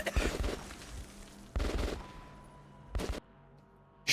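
Bursts of gunfire in Metro: Last Light Redux, three loud clusters of rapid shots spaced a second or so apart, with a fourth starting at the end and quiet ambience between.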